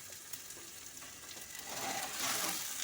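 Ginger-garlic paste sizzles and fries in a pan while a Bengali bhola fish curry with mustard paste is cooked. The hiss is steady and close, then grows louder and fuller toward the end, with no voices.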